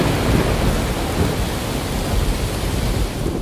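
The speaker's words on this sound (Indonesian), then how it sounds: "Petir menyambar langit berulang kali, menyayat gelap malam dengan kilatan putih menyilaukan, disusul gemuruh yang mengguncang bumi" Heavy rain pours steadily through a night thunderstorm, with deep rumbling thunder rolling continuously beneath the dense, loud wash of falling water.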